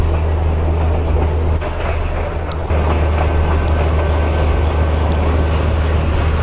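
A passenger train pulling into Sabarmati station gives a steady, loud rumble and low hum throughout, with a brief dip in the middle and no voices.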